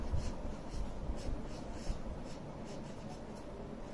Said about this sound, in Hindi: इस ड्राइंग शीट पर कुछ लिख कर देखते हैं